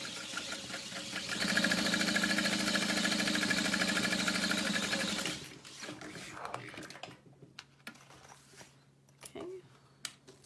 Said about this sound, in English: then you top stitch through the front, but not the lining